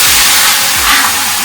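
Onion paste hitting hot oil already seasoned with cumin and asafoetida, giving a loud, broad hissing sizzle that stays constant and close throughout.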